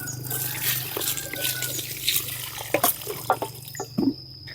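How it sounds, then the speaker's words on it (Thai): A bottle is rinsed with water outdoors before cooking, with close trickling and splashing, water sloshing inside the bottle and a few louder knocks and pours over a steady low background hum. "ล้างขวดก่อนเพื่อบ่ให้ไฟลวก"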